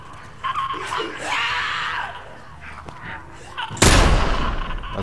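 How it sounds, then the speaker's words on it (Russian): A sudden loud, broadband explosion bursts in near the end in the video game The Last of Us, following a stretch of shouting and noisy game sounds. "Отличный взрыв, просто ядерный."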